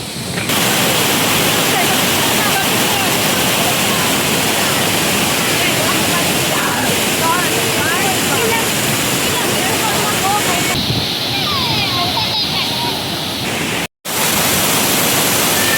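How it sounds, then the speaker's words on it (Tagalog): Constant roaring rush of Tinuy-An Falls, loud and close, filling the whole scene without a break apart from a brief cut near the end. "Yan yung tubig na galing sa bagsak ng falls na yan."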